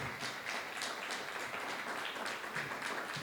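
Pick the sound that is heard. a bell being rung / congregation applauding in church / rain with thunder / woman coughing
congregation applauding in church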